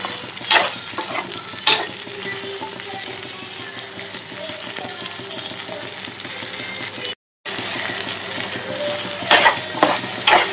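Prawns dry-frying in oil in a pan, a loud steady sizzle with bursts of stirring clatter and a brief dropout partway through.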